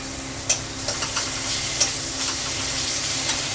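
Ginger paste, green chillies and cumin-coriander powder fry in a pan for a rohu fish curry, giving off a steady close sizzle broken by a few sharp utensil taps and scrapes while being stirred.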